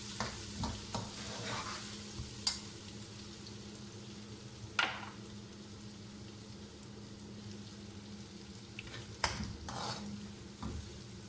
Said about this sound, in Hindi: इनको हल्का फ्राई करके फिर गोश्त डाल दूँगी।